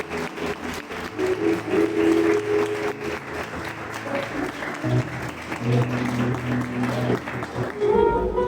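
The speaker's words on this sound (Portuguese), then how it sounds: "Salva de palmas para o Senhor." A church congregation breaks into sustained applause, a dense steady clatter of many hands clapping, with voices and music tones mixed underneath throughout.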